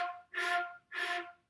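A flute plays two quarter notes slurred with no tonguing, so each note swells in softly and fades weakly. The steady, breathy tones are close and moderately quiet, with a short gap between them.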